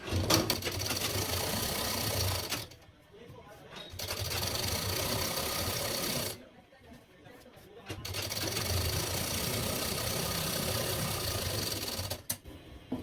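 An electric sewing machine stitches a Bombay cut blouse in three long runs of steady, close mechanical whirring, separated by short quieter pauses.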